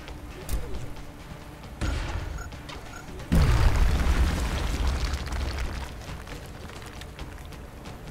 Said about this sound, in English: I can grenade him from here